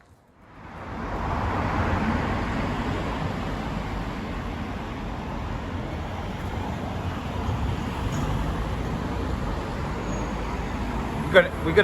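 Continuous road traffic rumbles along a town street in North Lancaster near Green Ayre, a steady broad wash of passing vehicles that swells in after the first second and holds throughout, with a couple of sharp clicks near the end.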